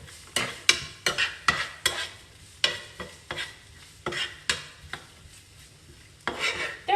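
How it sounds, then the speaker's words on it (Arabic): Onion and garlic cooking in a pan, heard as a soft steady sizzle under repeated sharp scraping and stirring strokes of a utensil against the pan, roughly a dozen close, loud hits with no talking. "كي تحطوا البصل والثوم هكا يتقلوا"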